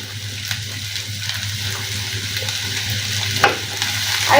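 Chopped garlic and onion fry in a little oil, a soft steady sizzle under a low hum with a few faint stirring scrapes, one louder knock near the end.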